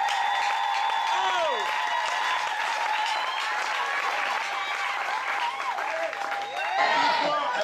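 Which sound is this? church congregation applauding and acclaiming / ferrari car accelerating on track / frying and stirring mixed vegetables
church congregation applauding and acclaiming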